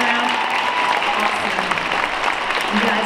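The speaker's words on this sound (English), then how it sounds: "Can we give them a round of applause for all the hard work that they do" Audience applause at a school winter concert, steady and sustained across the whole stretch, with a faint murmur of voices mixed in.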